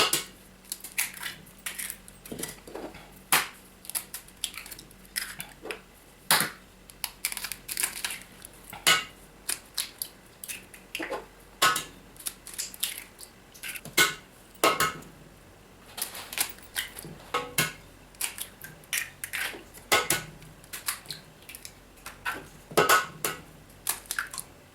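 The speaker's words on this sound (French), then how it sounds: "maintenant je vais casser les 5 œufs, donc 10 pour moi, dans la cuve" Eggs crack one after another into a stand mixer bowl, giving sharp, close taps and clinks in an irregular rhythm with short pauses between them.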